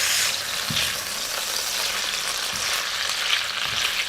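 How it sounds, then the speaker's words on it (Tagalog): Shrimp and cherry tomatoes sizzle steadily in a hot pan with a spicy sauce, a constant frying hiss broken by a few soft scrapes of stirring. "Haluin na natin para mabilis."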